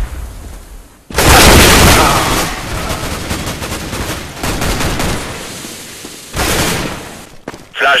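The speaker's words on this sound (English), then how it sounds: "I'm throwing a flashbang!" A flashbang grenade going off in Counter-Strike: a sudden, very loud broadband blast that rings on as dense noise for several seconds, followed by another burst and a few short pops near the end.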